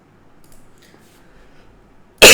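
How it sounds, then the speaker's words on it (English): A single loud, sharp cough from a man bursts out at the very end, after a stretch of near silence. "sorry, I keep coughing"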